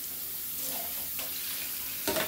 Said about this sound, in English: Now we're going to rinse and drain the other vegetables and add them in and let it simmer